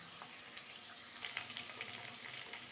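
Onions sautéing in a pan for a Thanjavur-style fish curry give off a soft, steady sizzle with faint crackles, fairly quiet and close, with no one talking.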